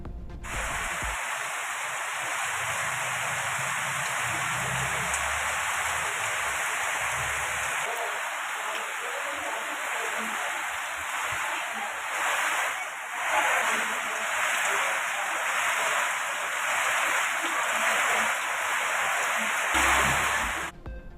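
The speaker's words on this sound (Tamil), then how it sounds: "அதிகாலையிலிருந்து மழை பெய்து வரும் நிலையில்" Steady early-morning rain falls in a continuous, even hiss that holds at a constant level for about twenty seconds, with no voices.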